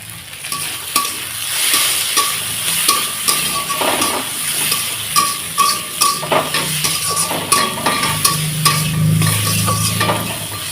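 Dhenki greens with turmeric frying in a pan, a steady bright sizzle with repeated scraping and clinking of a spatula stirring against the metal, close and fairly loud throughout with no talking.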